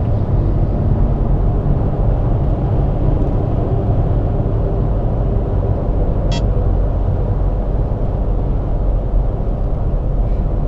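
A 2008 Hummer H2 rolling on BFGoodrich KO2 all-terrain tires gives a steady, loud low rumble of road and tire noise throughout, with one brief faint high chirp near the middle.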